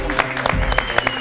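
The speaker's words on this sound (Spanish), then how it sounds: "Un aplauso, ¿no? Para él." An audience on a comedy talk show claps in a short, uneven burst, with voices and laughter mixed into the applause.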